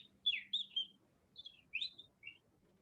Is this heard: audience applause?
no